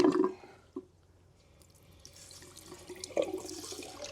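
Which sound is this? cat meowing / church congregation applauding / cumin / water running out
water running out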